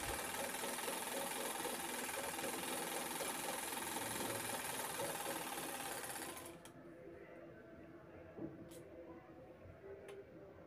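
A sewing machine runs steadily, stitching a fabric potli bag, with a continuous dense mechanical whir that stops about two-thirds through, leaving quieter room sound and a couple of faint clicks.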